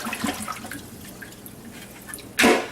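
Water dumped from a bowl into a kitchen sink while rinsing vegetables for stock: soft dripping and trickling, then a short loud splash at the end.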